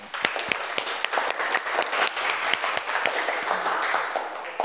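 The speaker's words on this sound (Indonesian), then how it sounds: "Bagus sekali kelompok 1, mari kita beri tepuk tangan." Students in a classroom applaud a group after its presentation. The clapping is brisk and fairly close, with many individual claps in a steady patter over nearly five seconds.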